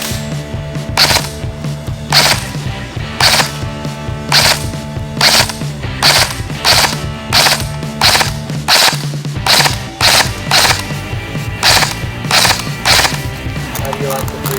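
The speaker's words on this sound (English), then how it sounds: "Okay, let's try it on 3-round burst now." An Ares Amoeba AM-014 airsoft gun fires in three-round bursts, sharp close rattling volleys repeating at a quick, regular pace over a constant background hum.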